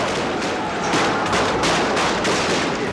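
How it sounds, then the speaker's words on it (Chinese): Gunfire during a night street massacre in Beijing, a dense rapid crackle of shots, loud and continuous, with rhythmic bursts. "北京城枪声、哭声、哀嚎声不断。"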